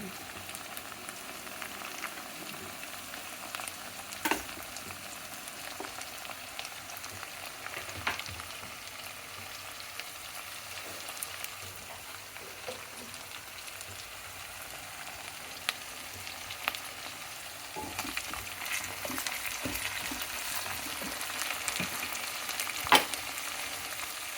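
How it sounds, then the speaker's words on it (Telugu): Onions frying in a pan for wheat rava upma give a soft, even sizzle with occasional light clicks and stirring scrapes, faint and steady throughout, no speech. "ఉల్లిపాయలు తొందరగా వేగాలంటే ఉప్పు వేసుకోవాలి."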